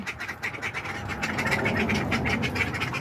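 A drake and a rooster fighting in a backyard flock, with raspy quacking, scuffling and flapping bursts close by, sounding agitated and continuous over a few seconds.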